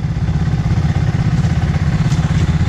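A Kingquad ATV with a sport exhaust rumbles steadily off-road, a continuous close, low engine drone at near-idle throttle with a slight rise in revs and no speech.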